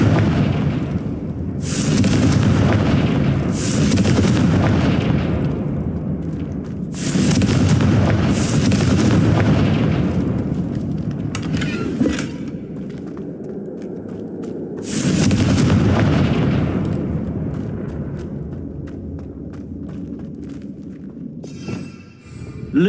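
Confringo blasting spell in Hogwarts Legacy: loud, booming fiery explosions repeat at intervals of a few seconds, each a broad roaring burst that fades into rumbling crackle.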